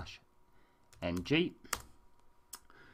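Keys on a computer keyboard tapped in short, sparse clicks while a command for the Aircrack-ng suite is entered, with someone speaking over the typing.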